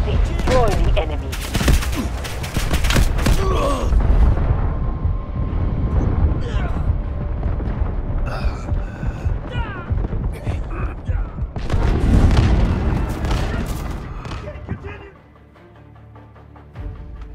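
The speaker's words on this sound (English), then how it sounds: "Incoming artillery." Artillery explosions and gunfire from the Delta Force video game boom and crackle in dense, continuous bursts, loud and close, with game voice lines over the blasts.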